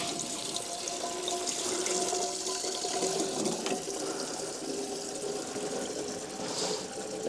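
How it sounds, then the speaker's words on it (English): Water flows steadily from a hose or feed line onto a chainsaw mill blade to keep it cool and clear of sawdust while timber is milled for a barn frame, a continuous close trickling wash with no talk. "So you've really got to make sure you've got plenty of good flowing water."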